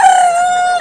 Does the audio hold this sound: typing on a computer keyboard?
no